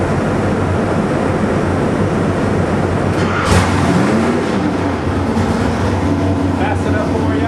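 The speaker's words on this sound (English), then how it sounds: "Watch how nice it starts and how responsive this carburetor is." A Nelson Racing 441 ci nitrous small-block Chevy with a 1050 CFM carburetor runs with a loud, continuous roar and one brief rise in pitch partway through, while a voice is heard over it.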